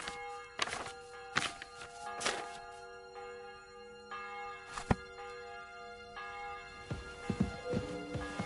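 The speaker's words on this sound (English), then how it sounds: "The bell's ringing for Hans the 5th time." A bell rings in several separate strikes, each leaving a lingering tone between sharper knocks. The strikes are moderately loud, with no talking.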